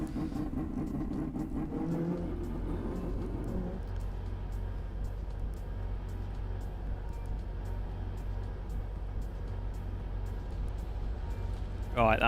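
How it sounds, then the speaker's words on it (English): A race car engine from the Assetto Corsa sim drones and revs steadily throughout, a loud low rumble with a brief rising whine at the end, while someone talks over it at the start. "Oh, this car sounds naughty."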